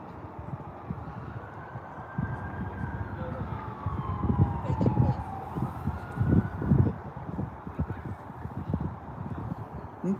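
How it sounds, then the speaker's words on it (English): Fire department sirens wail in the distance at a small-town street scene, a faint rising and falling tone under crowd noise and nearby voices. "That sounds like the fire department if you're wondering what the sirens are."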